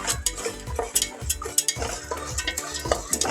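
A spoon stirring a coconut masala mixture in a pan for a stuffed eggplant gravy, giving quick rhythmic scrapes and clinks against the metal, close and steady with no talking.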